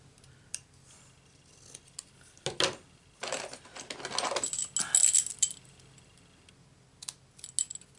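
Scissors snip through card stock during stamped card making, a few crisp isolated cuts and then a denser run of rustling snips, close and moderately loud with quiet pauses between.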